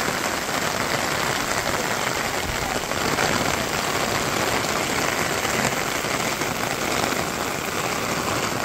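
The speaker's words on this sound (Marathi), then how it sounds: "एकदमच जोरात आलाय पाऊस" Heavy rain pours down during a late-May downpour in a village, a dense, loud, unbroken hiss of drops drumming on surfaces that stays steady throughout.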